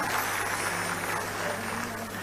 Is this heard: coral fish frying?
no